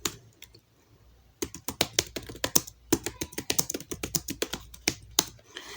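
A computer keyboard is typed on at close range, with a first short burst of keystrokes, a brief pause, then a fast, steady run of crisp clicks, without any talk.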